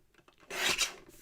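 Paper being trimmed for a recycled greeting card, likely with a paper trimmer: one short rasping swipe about half a second long, close and fairly quiet, after a moment of low room noise.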